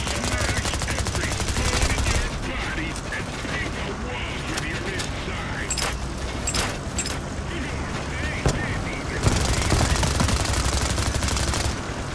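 Sustained gunfire in the heist shooter Payday 3, dense rattling bursts with sharp louder shots scattered through, continuous and close, with voices talking over the noise.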